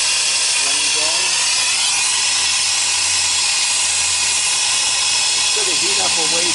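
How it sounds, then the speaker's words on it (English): A medium-hot torch flame heats refrigeration piping near a compressor, giving a steady, loud broadband hiss that runs throughout. Faint voices sit underneath it. "Medium hot flame going."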